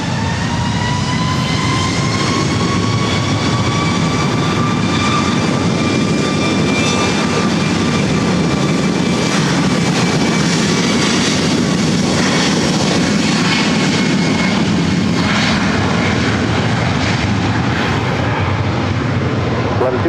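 An Alaska Airlines Boeing 737-900ER jet at LAX, heading to Paine Field in Everett, roars loudly and steadily. High whining engine tones ride over the constant thunder throughout.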